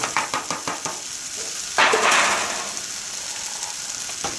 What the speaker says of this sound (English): So now what I'm going to do is put in the rest of the ingredients, which is the celery